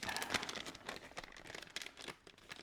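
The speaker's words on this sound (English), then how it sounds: "Why do I have so much trouble getting that paper out of a plastic bag?" Close crinkling and rustling of a plastic bag in short irregular bursts, like something being pulled out of it, with no voices.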